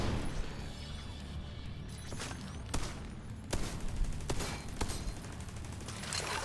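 Firefight in The Division 2 with scattered sharp gunshot cracks, a few standing out over a constant rumbling battle background, moderately loud, no talking.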